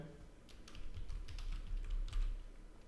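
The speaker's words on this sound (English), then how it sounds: "I would just be typing question here and pressing create" Computer keyboard being typed on, a quick run of light clicking keystrokes in irregular bursts, fairly close and alone.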